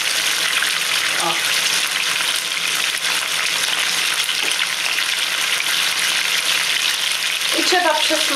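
Steady, loud sizzling and crackling of pork ribs frying in a hot pan, continuous throughout, with a few faint clinks near the end.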